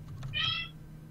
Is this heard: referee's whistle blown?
no